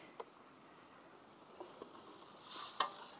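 Food stirred in a pot over an open wood fire, a faint steady sizzle and crackle with occasional scraping stir strokes, the hiss swelling louder near the end.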